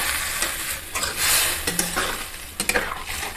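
Fish curry of bata fish with kochur loti being stirred in a pan after water is added, close scraping and clinks of a spoon over a soft simmering sizzle, no talk.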